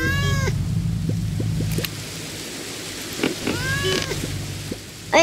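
A cartoon cat meows twice in Crossy Road, with a bright, drawn-out meow at the start and another a few seconds later over soft game background sounds.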